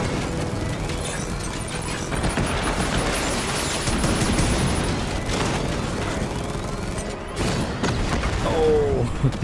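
Heavy gunfire and explosions erupt in the Batman: Arkham Knight battle against the Cloudburst tank, a dense, loud barrage of rapid shots and booms that continues throughout, with no voices heard.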